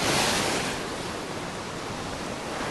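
Mediterranean surf washes onto the beach in Tel Aviv as a steady broadband rush of breaking waves, loud at first and then settling into a constant wash with no voices.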